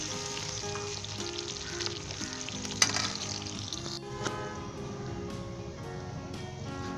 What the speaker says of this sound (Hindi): इसे 2 से 3 मिनट तक अच्छे तरीके से लाइट गोल्डन ब्राउन होने तक फ्राई कर लें।